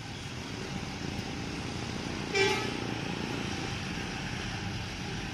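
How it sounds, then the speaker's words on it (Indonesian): An ANS Alika bus idles at Muara Bungo terminal, with a steady low engine rumble throughout and a brief horn-like toot midway. "Ini kayaknya parkir dulu ini. ANS Alika."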